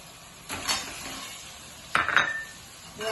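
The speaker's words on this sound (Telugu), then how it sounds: "ఇప్పుడు ఇందులో ఈ గుడ్లు వేసేద్దాం ఆరు గుడ్లు" Six eggs go into a pan of tomato masala, heard as two clattering bursts of utensil clinks and sizzling against a quiet background with no talk.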